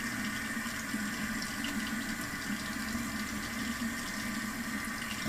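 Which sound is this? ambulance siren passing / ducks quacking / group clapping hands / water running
water running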